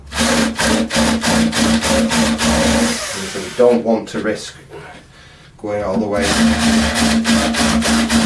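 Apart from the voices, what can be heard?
battery drill drilling into wood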